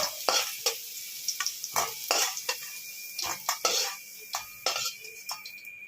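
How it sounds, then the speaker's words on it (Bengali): Vegetable stalks are tossed in hot oil in a pan, with repeated sharp scrapes and clinks of a spatula over a steady sizzle, close and fairly loud, no talk. "এবার আমি একটু ডাঁটাগুলো এই তেলে অল্প একটু নাড়িয়ে নিচ্ছি।"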